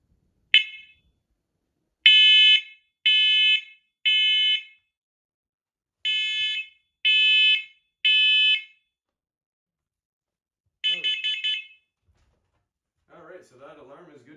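A piercing, high-pitched hardwired smoke/carbon monoxide alarm blares during a test in two groups of three sharp beeps separated by silence, then a shorter burst, followed by a brief voice.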